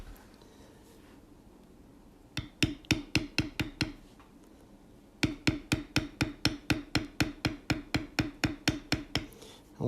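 A mallet taps a steel tooling stamp into leather on a corner-piece design: a short run of even, crisp knocks, a pause, then a longer steady series of close, sharp strikes at a regular pace.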